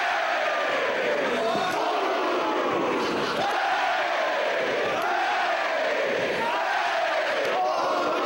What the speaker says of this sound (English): These fans voicing their support for Castagnoli.